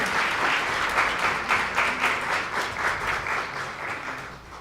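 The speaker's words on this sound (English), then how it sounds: "A round of applause." Sustained audience applause in a hall at a university event on diversity and inclusion, a crowd clapping steadily, fairly close and full, then fading slightly toward the end.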